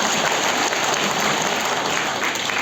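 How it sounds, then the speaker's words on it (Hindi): Dense, steady applause from an audience at a Hindi-speaking gathering, a continuous wash of many hands clapping at close range with no pauses across the whole stretch. "जरा उनकी भावनाओं को भी जरा ताली बजा करके आप"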